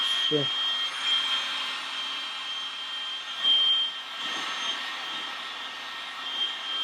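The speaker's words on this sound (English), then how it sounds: "I just warm it a little bit like this with the heat gun, so you don't burn it." A heat gun gently warms a piece of material, a steady whooshing blower hum with a faint high whine holding throughout, close by, with a brief knock near the start.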